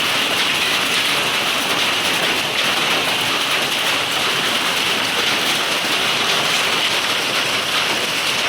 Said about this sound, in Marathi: पण वादळी वारा आणि तुफानी गारपीट नुकसानीला कारणीभूत आहे